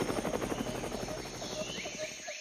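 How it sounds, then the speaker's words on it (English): A cartoon helicopter flies past with a steady, rapid rotor chop over a buzzing engine drone. It stays loud and close throughout and then fades slightly at the end, with no talking. "A helicopter?"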